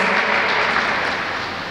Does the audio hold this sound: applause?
yes